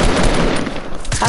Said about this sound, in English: That's my shotgun!